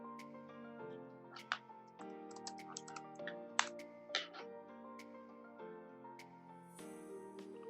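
Computer keyboard typing in a quiet room, a steady run of soft key clicks with a few sharper louder taps, close and alone.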